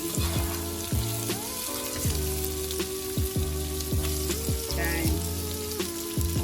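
Sliced zucchini sautés in a pan for a ricotta pasta, giving a continuous close sizzle and crackle with occasional stirring scrapes, while background music plays underneath.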